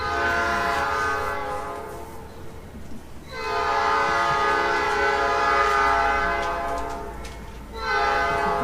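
A train passes through a city, its horn sounding loud and sustained, with rumbling rail noise underneath, a brief dip around the middle, then the horn blaring again.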